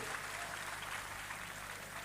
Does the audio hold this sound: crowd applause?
yes